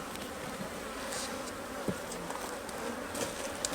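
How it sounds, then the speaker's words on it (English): Honeybees buzz around an open hive during a weekly inspection, a steady close hum of many insects with no talking. "it looks like the bees can still sneak out the edge there"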